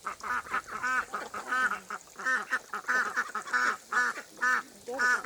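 Grown ducks quack nearby in loud, repeated bursts that overlap into an irregular, honking chorus lasting about five seconds.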